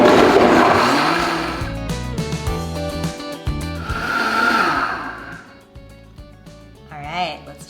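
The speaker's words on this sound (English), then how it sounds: "we're gonna go ahead and turn on the blender for approximately 3 to 4 minutes" A blender whirs steadily while blending a raw vegan ramen soup, loud and continuous for several seconds before easing off near the end, with other voices or music faintly mixed in.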